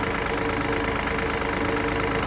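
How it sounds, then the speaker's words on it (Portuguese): A three-cylinder car engine idling with a knocking character: a steady, loud, close rumble with an even pulsing texture that runs throughout, with no voices. "parece que o motor está batendo"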